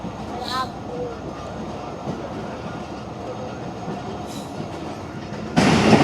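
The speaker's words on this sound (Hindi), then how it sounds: "मेहरापुर रेलवे स्टेशन से डिपार्ट हो रही है दोस्तों 18 डाउन मिलत एक्सप्रेस 8212 की पावर के साथ" The 18 Down Millat Express passenger train, hauled by locomotive 8212, pulls out of Mehrabpur railway station in Sindh with a steady close rumble and clatter of wheels, a brief horn-like tone early on and a louder surge of noise near the end.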